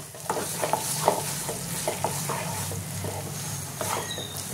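Eggplant bharta with fresh coriander leaves being stirred in a pan, giving a steady soft sizzle under repeated scraping strokes of a spoon, close and continuous with no voices.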